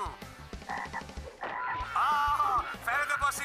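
Cartoon frogs croak in a busy, rhythmic chorus, loud and close, with layered ribbits and warbling calls overlapping.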